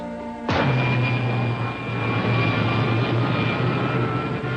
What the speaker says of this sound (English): Fire pilot jets.